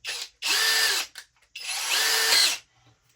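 A SKIL cordless brushless drill with a 13 mm metal chuck and two speeds whirs in two bursts, each about a second long, spinning up and winding down loudly with short pauses between, and no voices.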